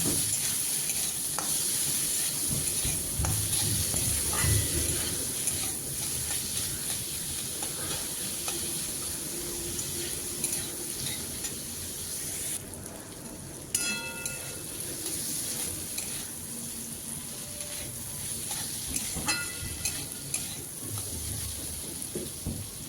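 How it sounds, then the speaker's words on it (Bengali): Onion, tomato and spices fry in oil in a pan for a chickpea dish, a steady close sizzle with frequent stirring and scraping, plus a few brief metallic clinks. "এই মশলাগুলো এবার আমি খুব ভালোভাবে ভেজে নেব"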